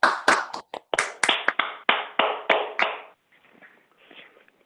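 Attendees at a school board of education meeting clap for a retiree, a brief burst of sharp, close handclaps lasting about three seconds before fading into quiet room noise.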